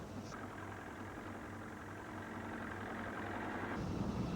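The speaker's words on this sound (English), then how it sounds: "one engine, flat out under the Tower Bridge" The Massey Shaw fireboat runs one engine flat out on the Thames under Tower Bridge, producing a steady low drone that swells slightly toward the end, heard without speech.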